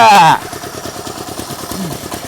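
A small Chinese walk-behind tractor's engine running after a clutch repair, a rapid even chugging putter heard close after a brief loud voice at the start.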